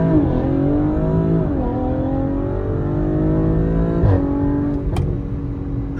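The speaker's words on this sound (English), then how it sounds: "I've been really into launching my car right now." A car launches and accelerates hard, engine note climbing through rising revs with a gear change partway, loud and close from inside the vehicle, with no talking.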